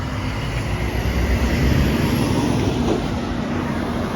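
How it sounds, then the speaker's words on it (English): A noisy truck on a town street rumbles loudly and steadily close by, a dense low roar that holds evenly throughout with no talk. "Here comes a noisy truck."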